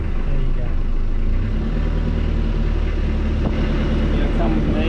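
The inboard engine of the Honeymoon 26 boat, started on two batteries after its glow plugs were warmed, runs at a steady, loud, low idle with no break.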